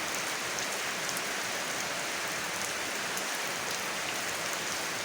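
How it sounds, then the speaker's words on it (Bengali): Continuous night rainfall hisses evenly throughout, a close, unbroken wash of drops striking the ground. "রাতের এই বৃষ্টি কি যে ভালো লাগতেছে"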